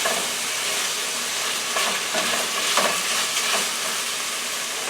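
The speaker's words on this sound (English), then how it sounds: "Now I'll mix it all together." Southern stewed chicken with onions being stirred together in a pan, giving a steady, close sizzle and hiss with soft scraping and stirring clatter throughout, no voices.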